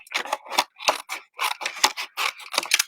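Scissors snip through card stock to trim a sentiment for card making, a quick series of close, crisp cuts in an uneven rhythm.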